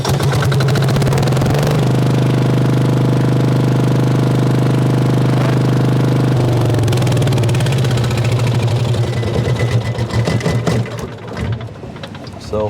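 A car engine being started and left running in a workshop, exhaust pipe in place, gives a loud steady idle with a deep low hum, then rougher pulsing and clattering toward the end as voices speak nearby.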